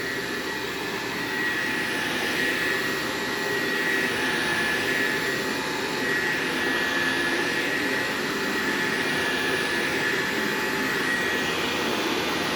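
A Shark Apex vacuum cleaner runs on carpet, giving a steady, close, continuous motor whine and airy roar with no pauses.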